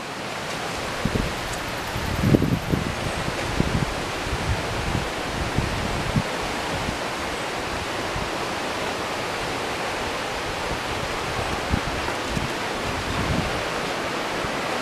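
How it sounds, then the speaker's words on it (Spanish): Continuous broadband rush of falling water at La Planta waterfall, steady and enveloping, with occasional low thumps and buffeting, no speech. "Esto es en la cascada La Planta."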